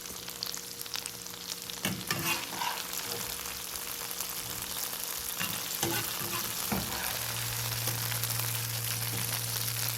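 Garlic shrimp frying in a pan, a close, steady sizzle with occasional stirring scrapes, continuous for the whole stretch.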